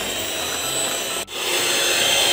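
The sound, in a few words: electric mixer beating cake batter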